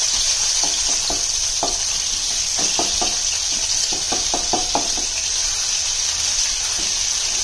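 Ginger and garlic paste fries in hot oil with a bright, continuous sizzle and hiss, broken by a run of close metallic knocks and scrapes of a utensil stirring against the pan.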